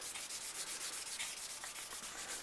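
Steady abrasive sanding of a stone, reshaping it and taking out remaining scratches before polishing; a continuous gritty rubbing with rhythmic strokes, close and fairly quiet, with no talk.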